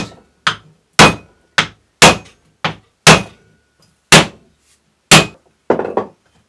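Clay pressed into a stamp is knocked down hard on a surface, about ten loud, close wooden thuds in a steady, slightly uneven rhythm with brief silence between blows.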